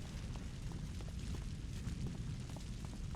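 Game explosions in City of Heroes set near the Mercy City Bank, heard as a continuous, fairly quiet rumbling roar with faint scattered pops and no clear distinct blasts.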